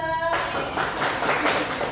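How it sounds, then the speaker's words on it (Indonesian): Classroom applause for a student: a dense burst of many hands clapping starts sharply after a brief pause and continues steadily at moderate loudness to the end. "beri tepuk tangan kepada Najwa"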